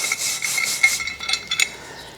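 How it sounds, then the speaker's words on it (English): A wire brush scrubs rust off a roughly 100-year-old hand tool found in a lumber yard, giving quick, gritty rasping strokes that come in short uneven bursts, close up with no talking. "Here with the brush, we'll just do a little brushing on there."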